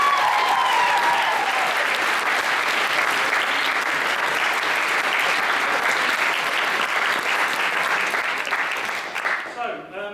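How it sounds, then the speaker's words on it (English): Wedding guests in a church give a loud, sustained round of applause, dense and continuous for about ten seconds before tapering off at the end. "can we just give them a round of applause?"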